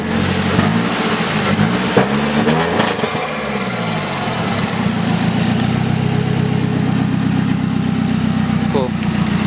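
A Chevy 5.3 V8 swapped into a Nissan D21 pickup idles steadily, a loud continuous engine drone with a slight rev near the start.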